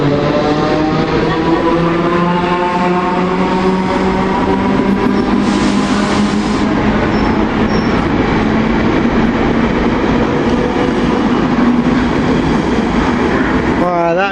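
Locomotive 66414 rolls past on a freight line, loud and close, with a steady engine drone, rising and falling harmonic tones and rail clatter lasting the whole time.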